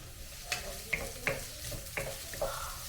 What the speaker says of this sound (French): Je vais mettre ensuite ma viande hachée, fraîche. Je vais faire revenir ça.